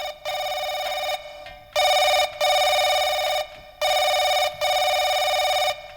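Telephone ringback tone heard after dialing a call, a steady electronic ring repeating in long bursts with short gaps, three cycles, loud and close with no talk over it.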